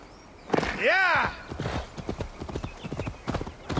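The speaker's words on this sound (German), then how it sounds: "Da kommt es angeritten." Horse in Assassin's Creed Valhalla gives a loud, rising-and-falling whinny, then trots in with a steady run of clip-clopping hoofbeats close by.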